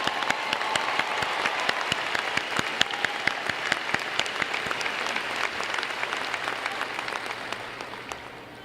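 Sustained applause from a large audience of families and guests for college graduates at a 2018 commencement ceremony, dense even clapping with scattered loud claps, steady for about eight seconds before easing slightly at the end.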